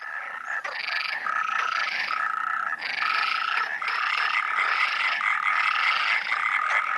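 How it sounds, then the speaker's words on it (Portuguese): European tree frogs give mating calls in loud, rapid trilling bursts that repeat in steady pulses, a dense nocturnal chorus with no talking. "A rã arborícola europeia tem apenas um saco sonoro para se fazer ouvir."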